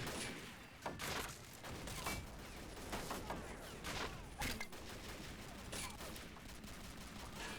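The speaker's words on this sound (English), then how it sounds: "Big exchange of fire here." Sustained gunfire exchange in the Red Storm mod combat game: dense overlapping rifle and machine-gun bursts with sharp individual shots and occasional thumps, continuous and fairly loud throughout with no talk.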